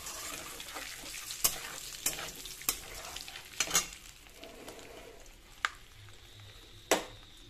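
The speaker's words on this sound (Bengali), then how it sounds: "এখন আমি তেলে দিয়ে দিচ্ছি তেজপাতা, আর আমি দিচ্ছি এলাচ লবঙ্গ দারচিনি, একটু নাড়তে থাকবো" Bay leaf, cardamom, cloves and cinnamon sizzle softly in hot oil while a spoon stirs them, scraping and clinking against the pan in sharp, irregular taps over a low, steady frying hiss.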